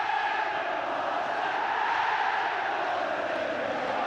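A big Celtic football crowd roars and chants after a goal, a dense sustained wall of voices that holds steady throughout.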